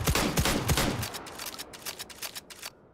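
Rapid automatic gunfire rattles out in a fast loud burst in the VR game Hot Dogs, Horseshoes & Hand Grenades, the weapon being a Mag 7 shotgun, with dense shots giving way to a lighter trailing rattle.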